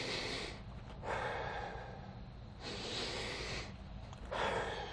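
Deep, slow breathing during a cat-camel spine mobility exercise: long airy inhales and exhales alternate in a steady rhythm, close and fairly loud, with no talking.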